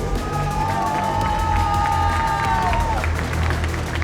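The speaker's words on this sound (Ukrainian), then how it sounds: "Оплески Сергію!" A crowd applauds and cheers in a large room at a kickboxing and MMA fight event, steady clapping mixed with shouts, while a high sustained tone rings out over it for a few seconds.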